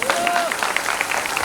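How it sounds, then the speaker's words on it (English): Audience applause at a college event with an actress, a dense, loud wash of clapping and crowd noise with voices mixed in, steady throughout. "Big round of applause for Vinesh."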